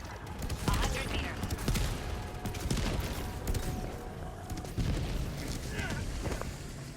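Machine gun fire in Helldivers 2, dense rapid bursts and booms running throughout amid busy game noise, loud and close.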